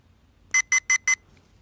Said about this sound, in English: 4 beeps.